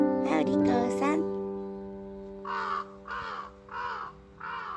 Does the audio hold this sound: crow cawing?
yes